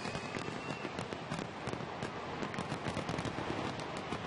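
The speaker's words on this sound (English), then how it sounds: "stick around for the spectacular fireworks show" A fireworks effect in a radio advertisement, dense rapid crackling and popping bursts packed tightly together like a string of firecrackers, steady and fairly loud for several seconds with no voice over it.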